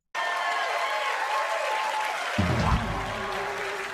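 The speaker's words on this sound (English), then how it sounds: "Listen to that crowd, huh?" Crowd applause fills a hearing room on UFOs, a steady, dense clapping that holds loud and even, swelling slightly toward the end with a low rumble joining in.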